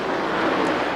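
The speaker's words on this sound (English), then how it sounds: "not down a cylinder, but a cracked tailpipe causing the funny sound we're hearing" A NASCAR Winston Cup race car with a cracked tailpipe at Chicagoland Speedway, a loud, steady broadband engine and exhaust roar that holds constant through the moment.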